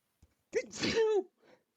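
A single close sneeze, with a short intake of breath before it and a faint trailing exhale, heard alone in a quiet room.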